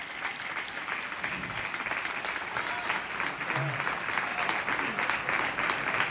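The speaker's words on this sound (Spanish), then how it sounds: "Un aplauso." Audience applause at a flamenco night held by a flamenco club, a steady wash of many hands clapping at moderate distance throughout, fairly even without any break.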